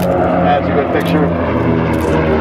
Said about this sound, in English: a photo pass with the B-29, kind of holding it in a slight left bank as it comes by